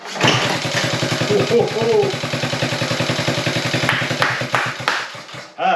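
A Honda Z50A minibike kickstarts and catches, its small engine settling into a steady, rapid near-field putter that runs for several seconds before cutting out at the end.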